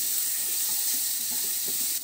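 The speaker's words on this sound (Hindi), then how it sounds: "अब हम इसमें आलू डाल देंगे।" Boiled potatoes go into a pan of spices being fried over a low flame for dry kala chana masala, giving a steady, close sizzle and hiss of oil throughout with no talking.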